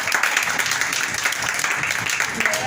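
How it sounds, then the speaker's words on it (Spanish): A church congregation applauds during a sermon, a loud, dense wash of clapping that holds steady throughout. "Denle un aplauso a Cristo."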